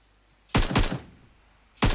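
Bursts of automatic gunfire in PUBG Mobile, two loud volleys of rapid shots followed by a brief pause and a third burst starting at the end, with no talk.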